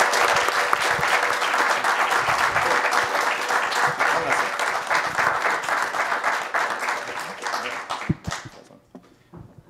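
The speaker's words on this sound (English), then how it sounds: "I just want to give another round of applause for the organizers as well as tonight's speaker" Applause from the audience after an evening lecture, dense clapping from many hands that runs steadily and then tapers off into a few scattered claps and near quiet.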